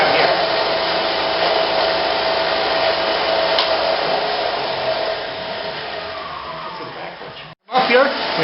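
A wood lathe spun up to full speed while a turned piece is polished under pressure gives a steady, loud whirring roar with a hissy edge. It holds through the clip, then cuts out briefly near the end and returns.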